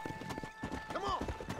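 Horse hooves clip-clopping in Red Dead Redemption, a rhythmic run of hoof knocks with a brief whinny in the middle, under game sounds and a tonal hum.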